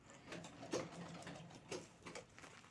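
A sewing machine stitches down both sides of a handbag made from old saree lace, giving a faint, steady mechanical whir with soft rhythmic pulses, quiet and close.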